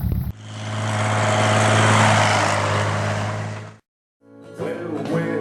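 A small motor vehicle engine, the poor man's ATV, drones steadily as it swells and fades, then cuts out, with another engine sound and some noise returning after a short gap.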